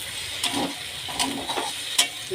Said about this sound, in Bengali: এখানে আছে ভেন্ডিটা ভাজা হচ্ছে।